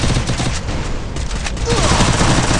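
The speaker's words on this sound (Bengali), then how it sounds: "আমি গ্রেনেড মাইরা দিই যাতে সাইডে থাকলে প্লেয়ার যাতে মরে বা ড্যামেজ খায়।" A grenade blast and rapid gunfire from a mobile battle-royale shooter game form a dense, continuous barrage of shots, loud and close throughout, with a player's voice talking over the action.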